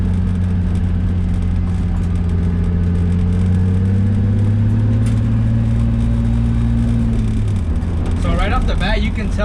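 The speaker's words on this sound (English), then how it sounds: "haven't driven this car in a cool minute, so I'm excited to get it for a spin" A car drives along a road from inside the cabin, with a steady engine drone and road rumble whose pitch rises slowly, then drops as it slows near the end.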